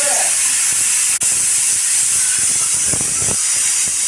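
A pressure cooker releasing steam in a home kitchen, a loud continuous hiss held throughout with small clicks and one brief break, with faint voices underneath.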